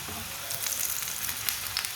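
Aloo paratha sizzling steadily as it fries in a pan, a continuous close crackle with small pops and no talking.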